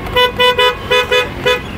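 A Renault Duster RXL (O) 85PS diesel's car horn honks five times in quick succession, short loud toots with brief gaps, close by and with no talk over them.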